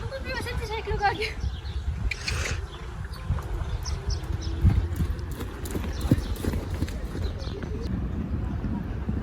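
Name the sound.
pony hooves clip-clopping during riding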